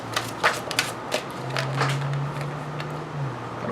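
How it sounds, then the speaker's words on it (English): Tarot cards being shuffled by hand, a quick flurry of riffling, flicking card sounds over a low background hum. "I want to shuffle and get some more."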